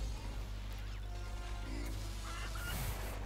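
In the LEGO Star Wars video game, squawking fowl-like honks from a cartoon chicken sound effect rise briefly over a steady low game hum, with a few short clucks near the end.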